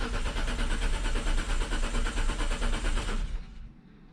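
A Hyundai Tiburon's engine with the clutch pressed cranks loudly and steadily in a fast rhythmic chug for about three seconds, then stops, heard close with no talking.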